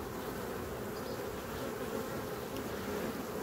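Honey bees buzzing around hive frames during honey harvest, a dense steady hum of many insects close by with no pauses and no voices.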